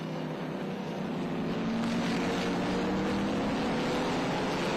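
Racing cars on a road course, a Le Monster running behind an MG Midget, producing a steady, loud engine drone with a rising whine as they pass, continuous and without talking.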